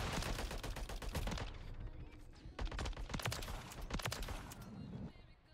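In Modern Warfare 3, bursts of rapid gunfire crackle in uneven clusters, loud and close at first, then in scattered volleys that thin out at the end.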